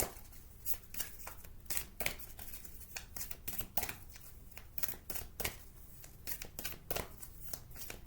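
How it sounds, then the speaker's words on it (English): Large oracle cards are shuffled repeatedly, producing quick papery riffles and soft slaps in an irregular rhythm, close and quiet. "They're really big cards. I find them difficult to shuffle"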